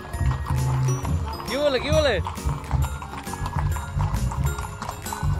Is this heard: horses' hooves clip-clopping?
yes